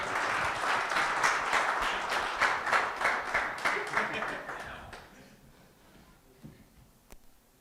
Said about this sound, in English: Why don't you clap for them as well?